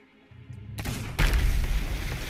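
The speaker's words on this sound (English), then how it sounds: "Explosion." A blast aboard a pirate ship in Sea of Thieves, starting as a sharp burst and followed by a louder deep boom that rumbles on heavily to the end.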